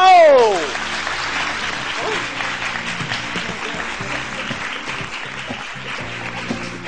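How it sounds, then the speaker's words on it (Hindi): A studio audience on a Pakistani morning talk show applauds continuously as a guest is welcomed, steady clapping throughout, with a brief tonal swoop at the very start and a voice speaking over it. "तालियां रुकनी नहीं चाहिए।"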